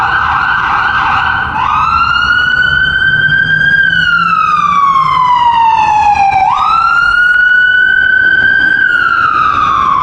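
A loud wailing ambulance siren sweeps up and down continuously, close by on a downtown Toronto street, with a second rising sweep midway; no voices.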